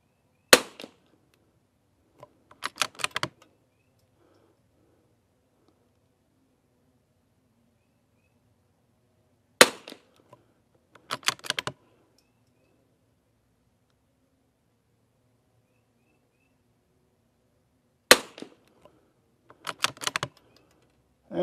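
Savage rifle shots at an outdoor range, sharp isolated cracks spaced several seconds apart, each followed by a few quieter clicks of the bolt being worked.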